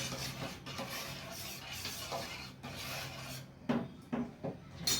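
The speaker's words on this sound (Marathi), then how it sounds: "आणि एकदा ह्याला व्यवस्थित असं हलवून घ्यायचं." Milk in a pot is stirred with a spoon, giving a soft steady rubbing and scraping, followed by a few light clinks against the pot near the end.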